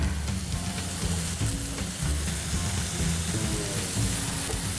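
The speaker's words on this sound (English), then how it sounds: "That means my oil is ready to go. So, throw my peppers in there." Peppers and broccoli fry in hot oil with a dense, continuous crackling sizzle that is loud and close. Faint clatter can be heard underneath, and no one talks.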